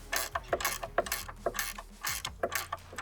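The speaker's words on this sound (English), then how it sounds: "we're just gonna tighten this nut down until that sinks in all the way flat" Wrench ratcheting a nut tight on a folding saw horse: a rapid series of clicking ratchet strokes, about a dozen sharp clicks in uneven bursts, close and quiet.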